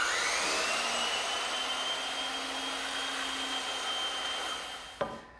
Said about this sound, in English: I could cut it by hand, but why waste a bandsaw when it's right here in the shop?